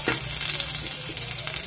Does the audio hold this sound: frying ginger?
yes